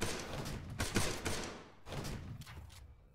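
Gunfire in a video game rattles in dense bursts, two heavy volleys of rapid overlapping shots with a short lull between them, loud and close, with no voices.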